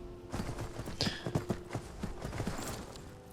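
Hooves clip-clop at a steady gait as a wild horse moves in Skyrim, a run of distinct, fairly close thuds over a low game ambience, with a brief higher whinny-like sound early on.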